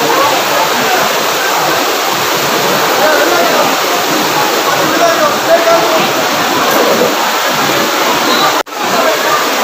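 Floodwater surges after heavy rain in Tirupati, a loud, unbroken roaring rush of water that sounds close, briefly cut off near the end.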